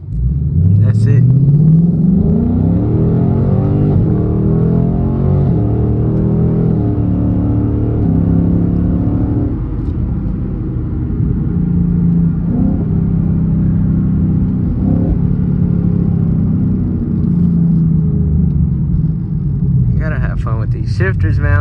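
A Ford Mustang GT with an X-pipe exhaust rumbles low and steady, its deep engine note rising and falling in gentle revs, with someone talking over it and a brief sharper burst near the end.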